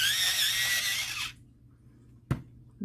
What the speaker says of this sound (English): Pardon the noise. Sharpening again.